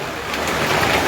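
A heavy hailstorm at the Vaishno Devi shrine gives a dense, steady roar of ice striking surfaces, close and loud, with no voices.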